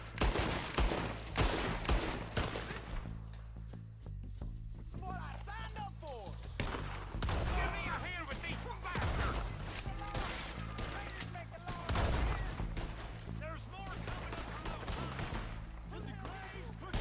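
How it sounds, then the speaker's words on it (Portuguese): Gunfire in Red Dead Redemption 2 during a swamp chase: scattered loud gunshots and bursts recur across the span, heavy at the start and around the middle, with people talking over and between the shots. "Posso atirar agora?"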